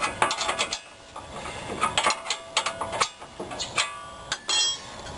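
A ratchet tightening a bolt on a car's front suspension during reassembly, with rapid metallic clicking in close, loud bursts and brief pauses between strokes.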